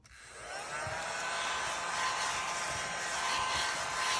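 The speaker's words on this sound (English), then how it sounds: "I have this really cool little desk vacuum that I'm going to get the rest of that up with." A small desk vacuum clears leftover paper bits from a card-making stamping desk, whirring up quickly and then running as a steady, close, airy whine with faint ticking and rattling of debris.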